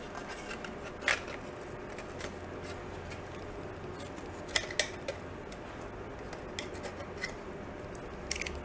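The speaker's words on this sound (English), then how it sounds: "Scissors are a better knife" Irregular snipping and crunching as scissors work through a tough material while building custom motorcycle parts, with occasional sharper clicks over a constant background noise.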